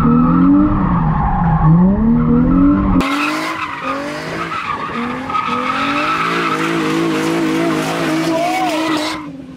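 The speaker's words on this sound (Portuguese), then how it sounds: "Eu vou ver se você faz zerinho ainda." A Nissan 350Z spins doughnuts while drifting, its tires squealing in long, wavering, continuous screeches over a revving engine, loud and close throughout, with voices shouting nearby.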